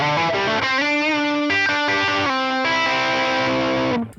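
A guitar tone from a Princeton amp capture on a TONEX MAX rings out as a few sustained, mildly driven notes and chords that bloom and then fade, close and alone.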